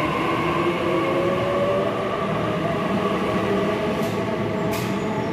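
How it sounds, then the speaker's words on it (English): An empty Sydney passenger train departs Liverpool Station, rumbling steadily nearby with a continuous low roar and faint high squeaks near the end; no voices. "B7 now departing, empty train."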